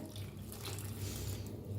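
Water pours steadily into a cooking pan of blended spinach, a soft continuous splashing rush heard close up.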